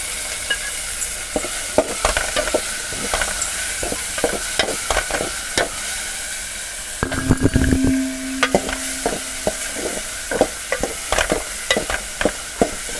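Chillies and tomatoes fry in a pan of Chinese-style pasta masala, a steady sizzle broken by repeated sharp scrapes and taps of a stirring spoon, with a brief hiss surge as the tomatoes go in.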